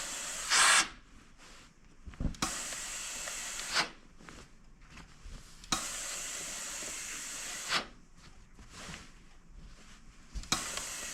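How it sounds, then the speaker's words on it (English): A steam iron pressing quilt seams gives repeated loud hissing bursts of steam, several seconds each with short pauses between, close and without talk. "So now I'm going to steam all my seams real good."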